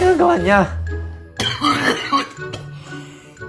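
Smoker coughing up phlegm, a wet, rasping cough burst followed by throat clearing, loud and close, with a voice speaking between the coughs.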